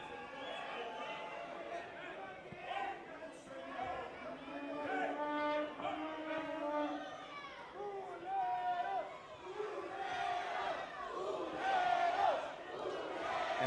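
A sold-out wrestling crowd at a tag-team lucha libre match voices loud, sustained displeasure, with jeers and shouts swelling and rising near the end, and no commentary over it.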